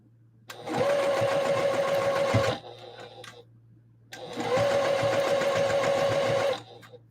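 A sewing machine topstitches a dress in two loud, close bursts of rapid whirring stitching, each about two seconds long, separated by a short pause.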